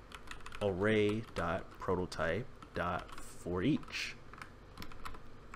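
Typing on a computer keyboard, brisk clicks scattered under a man's speech as he writes JavaScript code, the keystrokes close and moderately loud.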